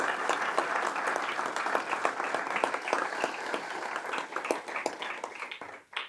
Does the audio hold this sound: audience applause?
yes